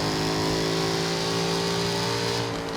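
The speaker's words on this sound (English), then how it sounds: "One of the best sounds, one of the best V8 sounds I think, coming out of a car in production today." Jaguar F-Type Project 7 V8 in Forza Horizon 3 revving loud and steady, a deep, rich engine drone holding high revs throughout before easing slightly near the end.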